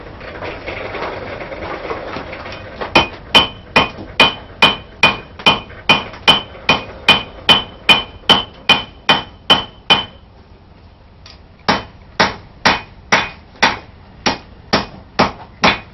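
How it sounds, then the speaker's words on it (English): Steel knife blade hammered on an anvil, shaped over the horn: a run of loud, evenly spaced ringing metallic strikes, a short pause, then another steady series of blows, with no talking. "do a little bit more hammering on it"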